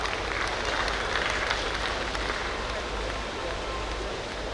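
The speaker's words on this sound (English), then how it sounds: "Please give Vikram Datta and Srilata a great round of applause." Dense, continuous applause fills a hall at a Rotary district conference as the audience honours two leaders. It stays as an even, crackling wash with no pauses, like heavy rain.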